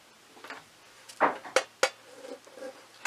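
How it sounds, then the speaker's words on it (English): Sharp metallic taps as holes are punched into an upside-down tin can braced on a piece of wood, several close, crisp strikes in an uneven rhythm with faint clinks between them. "flip it upside down so you can punch some holes in it"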